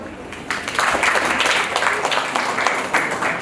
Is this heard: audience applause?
yes